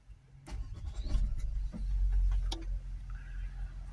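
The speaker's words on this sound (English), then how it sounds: "Now we'll get inside and start the vehicle up and finish off the cleaning." A Range Rover 4.4 TDV8 diesel engine cranks and starts after particulate filter cleaning, with brief clicks giving way to a steady low idle rumble close by, no talking.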